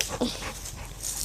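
A dog pants quickly and gives soft whimpers during play, close and brief, in a short burst of breathy sounds.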